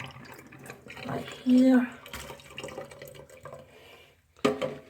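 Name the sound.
water pouring out and draining in a sink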